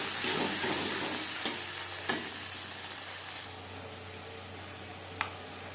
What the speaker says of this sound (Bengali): পেঁয়াজের সাথে বেশ ভালো করে